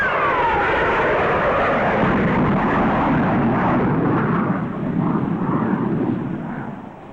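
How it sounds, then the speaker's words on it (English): A 1953 Eastern Lockheed L-1049 Super Constellation airliner climbs with its afterburner in operation: a loud, continuous, heavy engine roar filling the recording, easing off slightly toward the end. "Now we are approaching with the afterburner in operation. Watch the increase in this climb."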